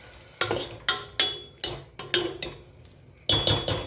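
Chole masala with tomato puree is stirred in a pan, with a series of sharp metallic clinks and scrapes of a spoon against the pan at a steady, uneven rhythm, close and alone.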